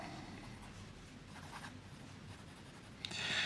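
A Parker fountain pen with a fine F nib scratching across paper, a soft, steady close-up scribble of quiet strokes, ending in a brief brighter scrape.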